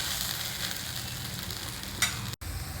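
A vegetable side dish with gram flour cooks in a pan with a continuous close sizzle and stirring scrape, one brief brighter scrape near the end followed by a momentary dropout.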